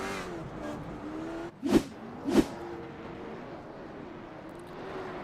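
Late model stock race cars at South Boston Speedway roll down pit road, two passing close by in quick succession with rising and falling engine whooshes over a steady rumble of more distant cars.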